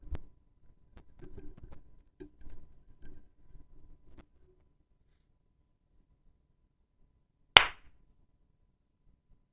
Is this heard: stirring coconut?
no